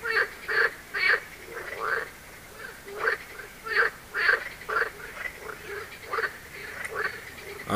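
Frogs croak around a carp-fishing pond at the Étang de la Reyberie late at night, sending out rhythmic bursts of rasping calls in a steady chorus with short gaps between phrases.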